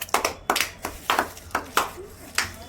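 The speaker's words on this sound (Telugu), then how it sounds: "ఓ కంగ్రాట్స్ క్లాప్స్ కొట్టండి." A small group of children clapping during an alphabet guessing game, about eight distinct, fairly close claps in a loose uneven rhythm, each sharp and brief, with quiet gaps between them.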